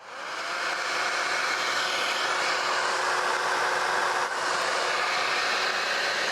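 Hair dryer powered by a portable power station while camping, a loud, steady whooshing blow with a faint constant whine, starting up and holding even for several seconds with a small dip midway.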